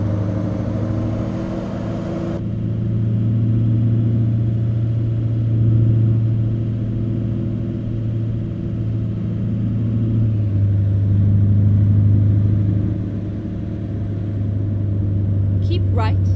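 Kenworth W900 truck in American Truck Simulator, its deep diesel engine droning steadily at low revs with a heavy rumble throughout, rising slightly mid-way, and a brief electronic chirp near the end.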